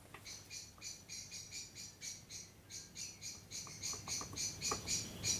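Rhythmic high-pitched bird chirping repeats steadily outdoors, quiet and regular, with no talking.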